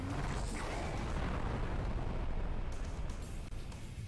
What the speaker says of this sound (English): So that explosion is actually, the size of that explosion is controlled by the difficulty.